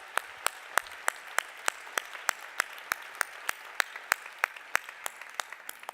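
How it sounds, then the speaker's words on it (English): Sparse, evenly spaced claps ring out at a grand opening ceremony, a small audience applauding at a steady rhythm, fairly faint and distant. "Let's give a big applause for Hans and his team, Maria and Lamia and everybody."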